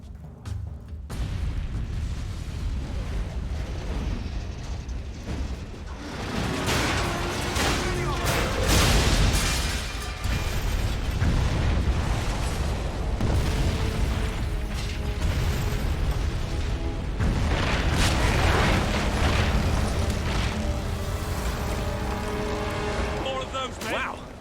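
Gunpowder barrels exploding in the video game Fable III, a sustained run of booms and crashes amid dense game noise and music, with voices talking over it.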